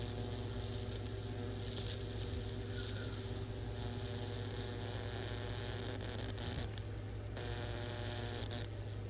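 A steady high-voltage electrical hum and buzz drones throughout without arcing, with faint crackling static and slight fluctuations in intensity.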